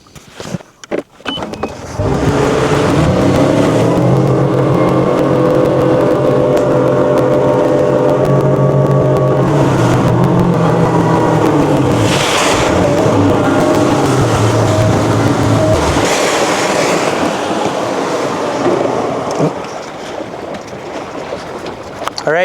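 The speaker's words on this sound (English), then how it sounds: "So I'm gonna fire up the big engine here and run us over there." A fishing boat's big engine, used on a walleye trip, starts with a few sputters, then holds a loud, steady drone for about fifteen seconds before the pitch drops and it idles lower.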